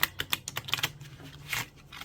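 A prototype tarot deck is shuffled by hand, giving a quick run of close, crisp card clicks and then a softer riffling burst.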